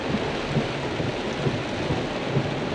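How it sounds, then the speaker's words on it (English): Heavy rain pouring down steadily on a farm, a dense, continuous hiss with low rumbling underneath, loud and unbroken with no voices. "It is really coming down."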